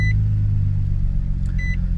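A 2002 Nissan's engine idles with a steady low rumble throughout, joined by two short electronic beeps, one at the start and another near the end.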